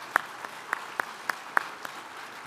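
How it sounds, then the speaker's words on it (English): Sparse, faint clapping from a few people at a student symposium on democracy, about seven separate claps spaced unevenly over a quiet room. "So let's give them a round of applause as well."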